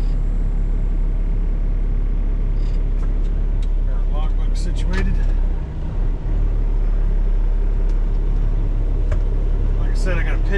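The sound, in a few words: semi truck backing out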